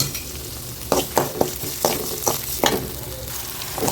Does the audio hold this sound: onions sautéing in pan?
yes